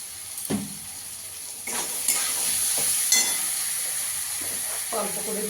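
Ground coriander, spices and tomato sauce sizzle and fry in a pan for a chhana malai curry while being stirred, with scraping stir strokes over a steady hiss, close and moderately loud.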